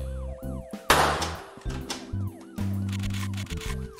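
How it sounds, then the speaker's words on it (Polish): A police siren in the video game Stick Em Up wails in repeated rising-and-falling sweeps, loud and close, layered over steady electronic game tones and a few abrupt bursts of noise. "I policja już jedzie."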